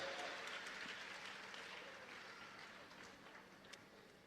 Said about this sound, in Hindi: जोरदार अनुमोदना के साथ ताली बजाइएगा